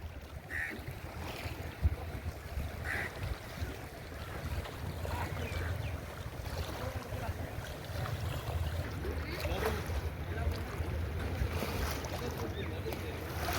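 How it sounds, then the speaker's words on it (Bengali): Waves lapping against the bank of the Padma river at Rajshahi during high water, a steady broad wash of water with some wind noise and boat sounds, continuous and moderately loud throughout. "ঢেউগুলো এসে নদীর পাড়ে এসে পড়ছে।"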